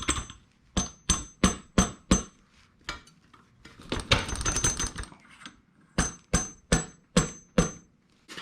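An axle shaft is fed through the rear wheel of a Suzuki GSX-R motorcycle, with sharp metallic taps in quick bursts of five or six, separated by a brief scraping, sliding metal sound in the middle.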